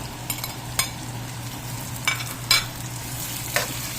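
Ground pork fries in a pan for lomi, a steady close sizzle broken by several sharp scrapes and knocks of a spoon stirring the meat.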